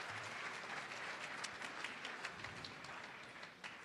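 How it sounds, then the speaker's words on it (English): An audience applauds a winning bid at a charity auction, with a fairly soft, continuous round of clapping and a few sharper individual claps standing out. "Give her a nice round of applause."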